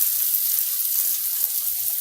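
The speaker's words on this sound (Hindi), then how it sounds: "यहाँ पे हम गैस कम कर लेंगे और इसे 2 मिनट के लिए पकाएंगे।" Sabudana khichdi cooks in a pan over a low gas flame, giving a soft, even hiss with faint low clatters near the start and end, and no one speaks.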